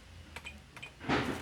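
A few light clicks of laptop keyboard keys being pressed on a faulty keyboard, followed by a brief soft rustle, close by and fairly quiet.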